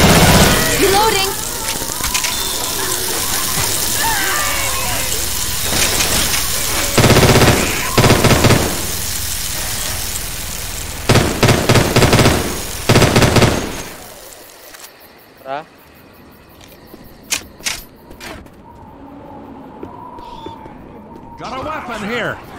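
Rapid gunfire crackles loudly through the first half of a Left 4 Dead 2 fight, with dense bursts and scattered single shots, then thins to sparse pops as characters call out.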